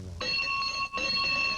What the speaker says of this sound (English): And every Saturday morning, Natalie rings the bell to open Seattle's Farmers Market